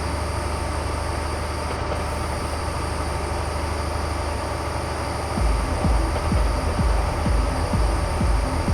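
A train in Train Sim Classic rumbles with a steady low drone, then heavier rhythmic clacks of wheels over rail joints set in midway, loud and close.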